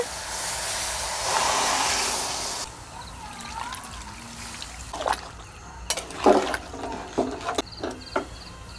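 Water is poured into jackfruit and shrimp curry in a pan: a steady rushing pour for about three seconds, then quieter sizzling with scattered clinks and taps.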